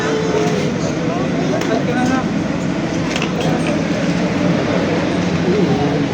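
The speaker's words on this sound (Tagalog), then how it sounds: "Train is arriving. Please stand clear." A train pulls into a station platform with a steady, loud rolling rumble and mechanical hum, while people talk nearby.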